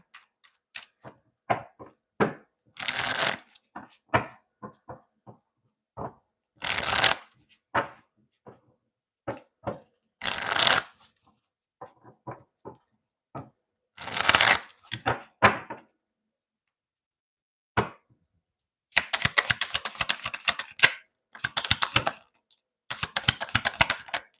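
A deck of tarot cards is shuffled in repeated bursts of rapid riffling and slapping, close and crisp, with short pauses between and a longer dense run of flutters near the end.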